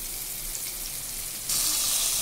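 Potatoes frying in a hot pan in a home kitchen, a steady close sizzle that jumps suddenly louder and brighter partway through as they hit the oil, continuing unbroken to the end.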